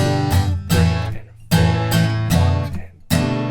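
Rhythmic strummed guitar chords, the final chorus and outro of a song, sound up close in steady repeated bursts while a voice counts the beat over them.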